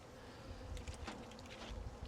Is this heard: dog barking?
no